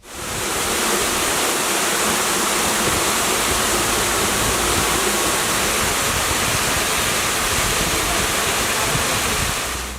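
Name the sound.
waterfall and streams flowing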